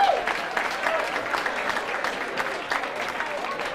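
A crowd claps steadily at a high school class ten-year reunion night, dense sustained applause of even loudness from start to finish, with scattered voices mixed in.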